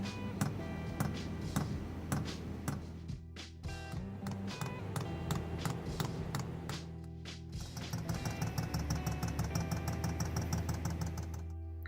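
Fuel pump of a diesel heater being installed in a Fiat Ducato camper van, priming diesel through the fuel line with a steady, fast ticking rhythm of sharp clicks over a low engine-like hum, close and continuous without speech.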